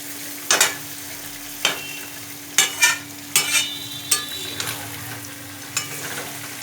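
Chicken and potatoes frying in a pan, with sharp scraping stirs at an irregular pace over a steady low sizzle and hum, close and fairly loud, no voices.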